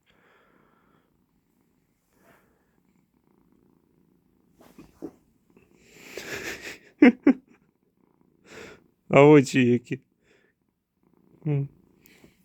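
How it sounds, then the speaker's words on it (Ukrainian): A Persian cat purring close by, a soft low rumble from about 4.5 seconds on, broken by a woman's laughter and brief talk. "І мурчить."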